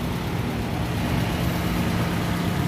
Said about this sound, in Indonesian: Yuk, kita lihatkan suara mesinnya.